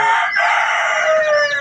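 A rooster crows once in a drawn-out call near farmyard chickens, loud and close, with no voices.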